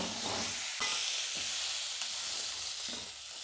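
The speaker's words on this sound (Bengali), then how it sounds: "কাঁকড়াটা খুব ভালো করে ভাজি হয়ে গেছে" Crab pieces frying in oil in a pan for a Bengali crab bhuna, a loud continuous sizzle with occasional scraping stirs, close up and without voices.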